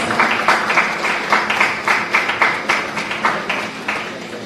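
Audience clapping in a round of applause at an annual law lecture for a rank holder, steady dense claps with small surges, fairly close and alone with no talk.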